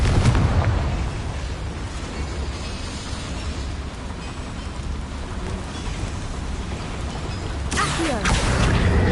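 A fiery blasting spell detonates in a video game played on PS4, a loud booming burst that settles into a dense rumbling hiss, followed by a second blast near the end.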